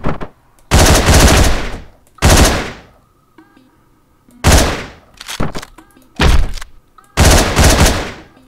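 Gunfire in the Hotline Miami video game, several loud sharp bursts of shots spaced apart with short quiet gaps between them, close and punchy, no talking.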